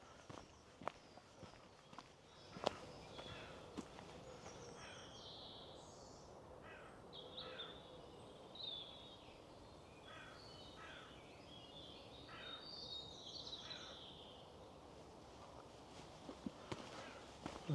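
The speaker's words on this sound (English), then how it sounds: "There's some crows out there in the distance by the sound of it." Distant crows cawing in short repeated bursts over steady outdoor ambience, with occasional footstep-like thuds nearby.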